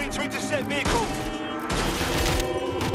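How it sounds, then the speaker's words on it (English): Dense gunfire fills a scene in the Watch Dogs Legion video game, with continuous rattling bursts and booms layered over game music and effects, loud and unbroken throughout. "Yo, they're shooting."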